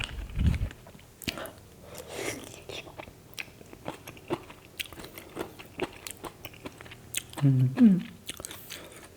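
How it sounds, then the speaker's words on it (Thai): Crisp Chinese kale eaten with cockles, close-up bites and crunchy chewing in irregular bursts, with a short low vocal sound near the end. "ฟังเสียงความกรอบของมันนรับความกรอบความสด"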